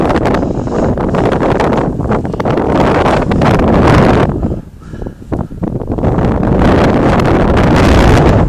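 Strong gusting wind roars and buffets the microphone continuously outdoors in sunshine, with a brief lull midway before the rushing blast returns at full force.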